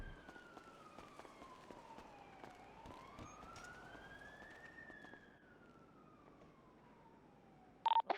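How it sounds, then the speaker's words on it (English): Police car siren in the GTA NoPixel roleplay game, a steady wailing tone that sweeps slowly up and down over about eight seconds, moderately loud and alone, ending with a short burst of noise. "Is it just me, or do you also hear that siren?"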